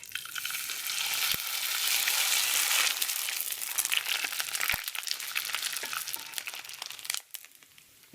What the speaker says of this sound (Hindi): अब तेल गर्म हो चुका है। अब हम इसमें पापड़ तलेंगे।